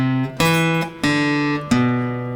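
Acoustic guitar playing the second measure of a song, three sustained strummed chords in a steady quarter-note pulse, close and loud with no talking.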